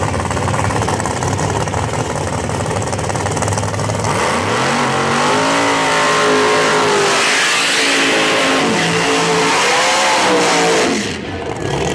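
A nitrous-equipped drag racing car at a dragstrip during qualifying revs loudly, then accelerates with rising and falling engine pitch as it pulls away, roaring close and continuous for about eleven seconds before the sound drops off.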